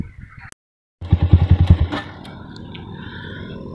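Honda Tiger 250cc motorcycle with an original DOS muffler and a P28 carburetor: after a brief gap, the engine gives a quick run of loud, rhythmic throttle blips, then settles into a steady, lower idle rumble.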